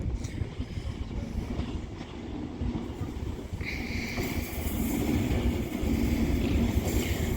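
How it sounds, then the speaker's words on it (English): An Avanti West Coast Class 390 Pendolino train rolls through Wolverhampton station, a steady low rumble of wheels and motors that swells louder as it draws close, with a high whine rising partway through. "With another Avanti West Coast Class 390 Pendolino, 35112's now arrived in"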